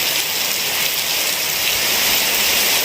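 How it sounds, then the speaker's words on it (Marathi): Heavy monsoon rain pours down in the Konkan region, a dense, loud, hissing downpour that continues evenly throughout with no voices. "मुसळधार पाऊस येतो असा अचानक"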